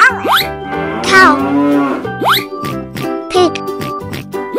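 A cow moos loudly and close by, giving several long, drawn-out lowing calls with rising and falling pitch, mixed with short cartoonish sound effects.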